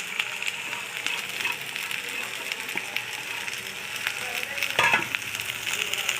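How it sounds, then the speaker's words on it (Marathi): Sliced capsicum and cabbage stir-fry in a kadhai for Manchurian, with a steady moderate sizzle, repeated stirring scrapes and one brief clatter toward the end. "हा देखील कढईमध्ये टाकून चांगल्या प्रकारे परतून घ्यायचा आहे."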